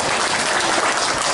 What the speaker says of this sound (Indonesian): Tepuk tangan untuk Kang Hendri.